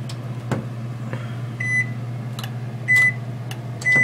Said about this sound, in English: And if I click it, it apparently has become off switch for my microwave